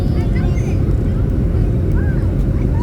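Airliner engines roaring steadily at London Stansted as the plane begins its takeoff run from runway 22, a dense low rumble heard from inside the cabin with wind-like noise throughout.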